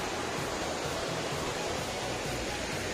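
A small waterfall pours into a river at a quiet Kerala bathing spot. The roar is steady and close, an unbroken wash of water with no talk over it.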